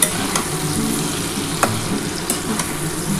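Taro stolons frying with onion and black cumin in a hot pan, a steady loud sizzle alongside occasional scrapes and clacks of a stirring spoon, close up and without voices.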